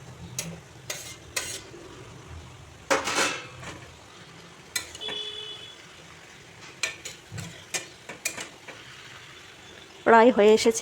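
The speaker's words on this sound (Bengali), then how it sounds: "এগুলোকে চাল কুমড়োগুলোকে 2 মিনিটের জন্য ঢেকে দেব, গ্যাসের ফ্লেমটাকে একদম লো করে।" A utensil stirs and scrapes in a pan of rice and fish curry, clinking intermittently with soft sizzling between strokes, while someone talks over the cooking.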